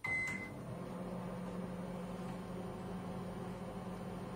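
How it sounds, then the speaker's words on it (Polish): A microwave oven heating a cup of half a litre of water hums steadily at low volume after a brief beep at the start, its even drone continuing unchanged throughout. "Uruchamiamy mikrofalówkę i śledzimy wskazania miernika."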